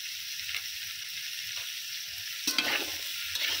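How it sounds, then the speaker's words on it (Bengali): Vegetables fried in a pan with salt and turmeric for dalia khichdi, giving a constant loud sizzle broken by a few scraping stirs. "দিয়ে আবারও সব সবজিগুলো খুব ভালো করে ভেজে নেব"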